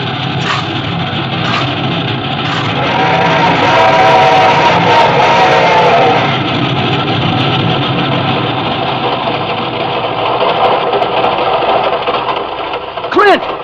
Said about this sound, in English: This train ain't going very fast.